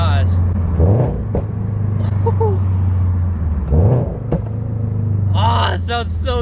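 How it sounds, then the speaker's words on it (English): Deep, steady exhaust rumble from a 2022 Subaru BRZ fitted with UEL headers, idling loud and close with a couple of brief revs, while voices talk over it. "Such a clean rumble."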